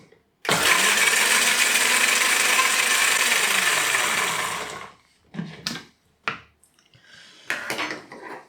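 A food processor whizzes Thai fishcake mixture in one loud, continuous run of about four seconds, then stops, followed by scattered clatter and handling noises.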